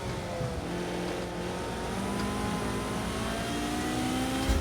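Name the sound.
Ferrari F40 engine revving in video game Project Cars 2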